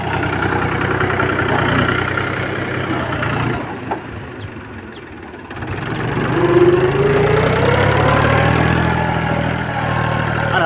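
An old Mahindra tractor engine runs steadily on a farm, a loud low rumble that dips for a moment and then builds again, the sound holding throughout.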